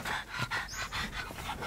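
A dog pants rapidly with its tongue out on a hot day while sitting on a car seat, a close, steady rhythm of quick breaths.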